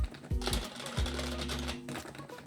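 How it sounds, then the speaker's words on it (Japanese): Keys are pressed on a Geonix48 Rev.2 mini wireless mechanical keyboard with foam packed inside its case, giving a few muted, thocky clicks in uneven rhythm, close and quiet against a faint hum. "打鍵感がめちゃくちゃ向上してるんですよ"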